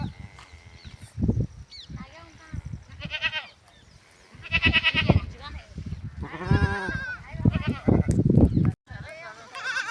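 Sheep bleating on a low-cost farm, several animals calling in repeated overlapping bleats, close and loud, with a gap near the end.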